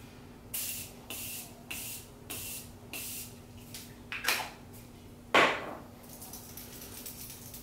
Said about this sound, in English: I'm just gonna set my face with my Morphe Continuous Mist Setting Spray